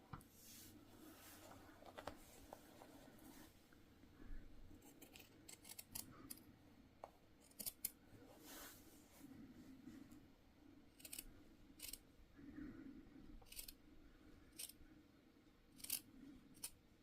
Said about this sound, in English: just checking every so often that I haven't accidentally cut into the fabric